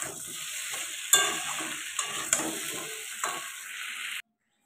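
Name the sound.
pumpkin curry cooking and being stirred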